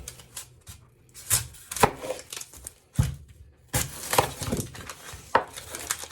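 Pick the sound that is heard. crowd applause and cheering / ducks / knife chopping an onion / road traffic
knife chopping an onion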